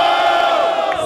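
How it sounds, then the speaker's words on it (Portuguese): Crowd at a street freestyle rap battle in São Gonçalo roars and cheers loudly, a dense sustained wall of shouting voices. "Barulho para Johnny"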